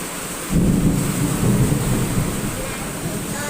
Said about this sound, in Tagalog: Makalakas ang kulog.